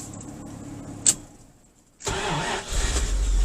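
A 1984 Dodge D350 truck's engine cranks and fires after a brief sharp click and a moment of quiet, catching into a loud, rough, steady idle close by.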